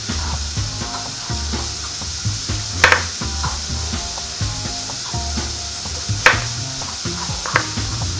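Swiss chard going into a cast iron pan with onions, a low sizzle under repeated scraping and stirring strokes, with a couple of sharper metallic knocks, close up and with no voices.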